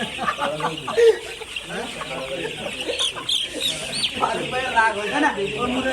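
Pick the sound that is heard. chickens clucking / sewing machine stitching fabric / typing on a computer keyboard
chickens clucking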